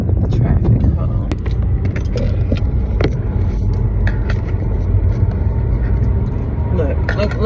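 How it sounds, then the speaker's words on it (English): A 2020 Kia Soul is driven through traffic, its cabin filled with a steady low road rumble and small rattling interior noises, while a person talks over it throughout. "I'm just driving from my day job to my night job"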